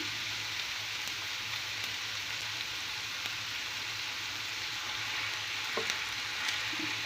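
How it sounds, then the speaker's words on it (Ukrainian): Meat frying skin-side down in a pan with softened onion sizzles steadily and crackles loudly, a constant close hiss with occasional pops, with no talking. "я погружаю м'ясо шкірочкою вниз, бажано на дно сковорідки"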